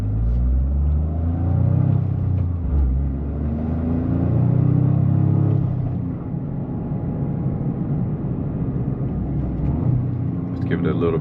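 Toyota GR Corolla engine, 2025 Premium model, pulling under acceleration while driving, a steady low rumble that rises in pitch across the run, with a voice talking over the engine throughout.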